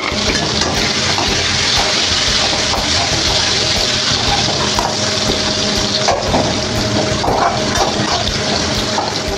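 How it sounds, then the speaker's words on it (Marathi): Lengthwise-sliced onion fries in a pan with cumin and asafoetida, giving a steady, close, dense sizzle and crackle throughout, with faint stirring scrapes. "कांदा छान परतत आलाय"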